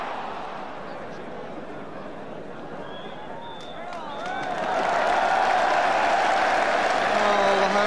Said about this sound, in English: the home crowd showing what they feel about the first 45 minutes